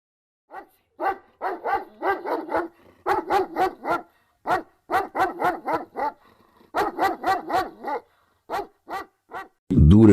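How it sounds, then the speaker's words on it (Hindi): A dog barks in the distance in quick bursts of two to four barks, broken by short pauses. A louder low sound comes in at the very end. "दूर एक कुत्ते की भौंकने की आवाज आती है"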